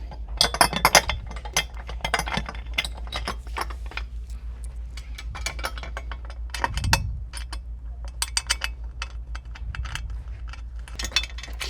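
Threaded bolts on a Tara EV 2+2 golf bag holder are snugged up, producing close, irregular metallic clinks and ratcheting taps over a low steady hum.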